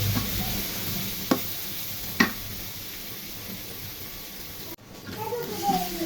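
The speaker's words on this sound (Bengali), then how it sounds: "পেঁয়াজগুলি ভেজে নিব।" Chopped onions hiss and sizzle in hot oil for a chicken curry, a soft continuous frying sound broken by a couple of sharp clinks from a spoon or pan.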